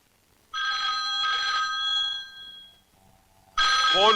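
A telephone bell rings in two long bursts with a short gap, then after a pause another ring starts loudly near the end.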